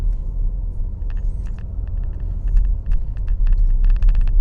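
A Porsche Macan S Diesel holds third gear on a country road, its engine a steady, loud low rumble from inside the cabin, with light ticking sounds scattered over the top.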